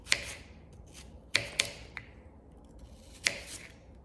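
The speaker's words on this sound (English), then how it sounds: "Now I'm going to cut them into smaller slices." A knife slicing apples into smaller pieces on a cutting board, with several quiet, crisp cuts and taps spaced irregularly and heard close up with no talking.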